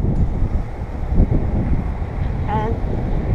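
Wind rushes across the microphone in a steady rumble, with faint water sounds and a brief whistle-like chirp near the end.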